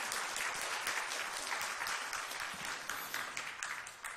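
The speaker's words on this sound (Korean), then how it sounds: "박수로 한번 영광 돌려봅시다" A church congregation applauding during a Sunday service, dense rapid clapping from many hands, steady and fairly close throughout, with no speech over it.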